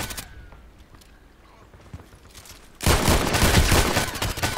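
Muffled, sparse game sounds give way to a loud, sustained burst of machine gun fire in the shooter Contract Wars, dense rapid shots continuing to the end.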